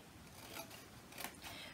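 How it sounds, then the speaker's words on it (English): Scissors cut paper up to a score line while making a card holder, faint close snips and a soft rasping slide, with two sharper crisp cuts standing out, quiet and with no talking. "we need to go ahead and cut right up to the score line right here"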